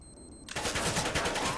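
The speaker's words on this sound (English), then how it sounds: "He shot fucking 50 bullets!" A rapid burst of automatic gunfire in the tactical shooter CS:GO, starting abruptly after a brief quiet beep-like tone and continuing as a loud, steady stream of close shots.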